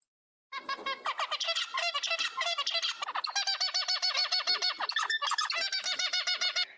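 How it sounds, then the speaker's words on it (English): A recorded bird call played back, a long run of rapid, rhythmic chirps and warbles in quick repeated bursts, fairly close and steady, with no talk. "we give it the bird call, and I'm just going to play it one more time"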